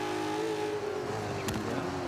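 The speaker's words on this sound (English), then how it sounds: "we're back for the last lap of the Ford Raptor" Ford Raptor engine droning steadily through a race lap in Forza 5, a sustained in-game motor hum with a brief sharp burst midway, no talking.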